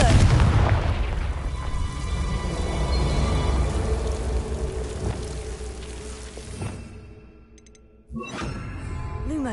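A Confringo blasting spell explosion in Hogwarts Legacy, a loud, dense opening blast that rolls into a long crackling, rumbling decay, then a brief hush before another sharp burst near the end.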